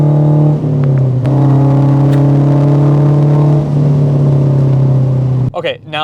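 A Toyota 86/Subaru BRZ engine fitted with a K&N aftermarket intake drones loudly and close at steady revs, dips briefly, then cuts off abruptly before the end.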